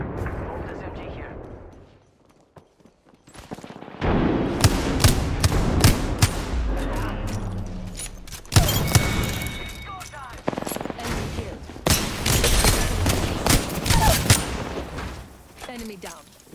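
Video game gunfire bursts in loud, repeated volleys of shots and booms, including machine-gun fire, after a brief quiet lull, with a voice talking over parts of the action.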